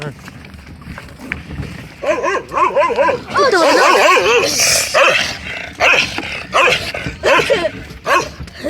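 Dog barking in short bursts with some whimpering and growling, close by, mixed with people talking around it.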